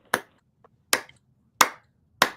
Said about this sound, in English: I'm applauding you because you see,